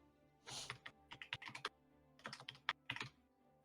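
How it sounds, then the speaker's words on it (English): Fast, forceful typing on a computer keyboard, a dense burst of clacking keystrokes in uneven clusters with short pauses between, close and clear with no talk. "I'm sorry, you're gonna hear aggressive typing."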